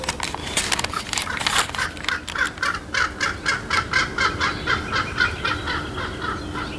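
A raven calls in a series of harsh, rhythmic croaks that repeat about five times a second, loud and fairly close, over a faint steady background hum.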